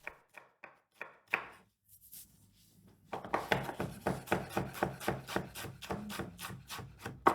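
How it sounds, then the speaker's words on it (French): Onions finely chopped with a knife on a board: a few sparse cuts at first, then after a pause a rapid, regular run of close, crisp chops, with no talk. "Je vais couper mes oignons,"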